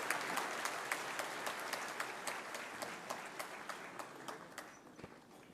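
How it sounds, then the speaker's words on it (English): Fairly distant audience at a university event applauds the chief guest, a steady patter of many hands with some distinct individual claps, thinning slightly toward the end. "please give a loudest possible round of applause to our chief guest"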